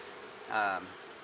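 Honeybees buzz around a hive fitted with a feeder, one brief near buzz rising above a faint steady hum.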